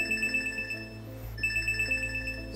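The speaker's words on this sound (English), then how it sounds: "So that just sent out a health notification." A short electronic chime pattern repeats twice from a brain-implant-controlled device sending a health notification, bright and tonal over a steady background hum, with no voices.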